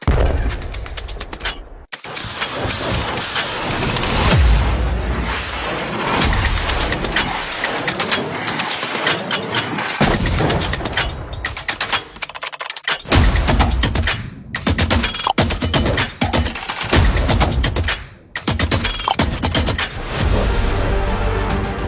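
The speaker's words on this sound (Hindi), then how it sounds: "इसके फौरन बाद एंटी एयरक्राफ्ट गन से जवाबी फायरिंग शुरू हुई है।" Anti-aircraft gun fire in Kabul following explosions: loud, dense bursts of rapid firing that keep going for about twenty seconds with only brief pauses, and no voices.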